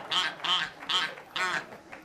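A duck call is blown on a cooking show about a hunter's feast, giving four quick nasal quacks in an uneven rhythm, fairly close and moderately loud, with no speech over them.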